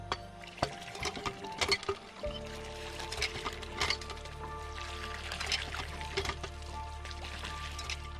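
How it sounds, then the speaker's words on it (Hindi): Clean water gushing from a newly installed hand pump in Balochistan, an uneven, close pour with irregular splashes and knocks from the pump. "पानी बड़ा माशाल्लाह इसका अच्छा निकला है, साफ़ पानी निकला है।"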